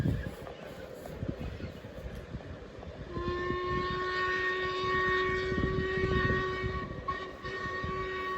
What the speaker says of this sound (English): Steam trains are coming.